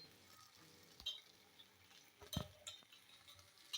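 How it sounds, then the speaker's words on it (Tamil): Tamarind extract frying in hot oil for ginger tamarind dosa chutney, a faint continuous sizzle broken by a few sharp pops and a clink of a utensil, close and quiet. "அந்த எண்ணெய் பார்த்தீங்கன்னா நல்லா அப்படியே வெந்து அப்படியே சூப்பராக பொரிஞ்சு வருது"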